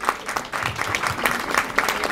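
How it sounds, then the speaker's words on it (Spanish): Audience in a lecture hall clapping for an architect at a talk, a short burst of dense, steady applause from a modest crowd at moderate distance. "Un aplauso para el arquitecto Cacciatore."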